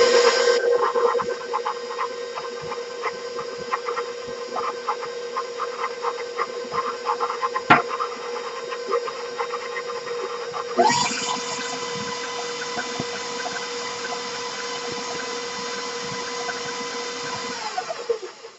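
Electric mixer blending chocolate sauerkraut cake batter with vanilla, a steady close motor whine that holds evenly, then shifts pitch and speed partway through and continues to the end.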